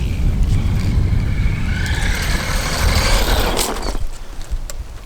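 A T2M XTS brushed RC car running on a LiPo battery whirs loudly and steadily at close range, with a rising high-pitched motor whine through the middle before easing off near the end.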